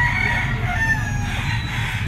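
A yellow-legged bullstag gamefowl rooster of sweater bloodline crows loudly and close at a pet market, one drawn-out call over a busy, murmuring background.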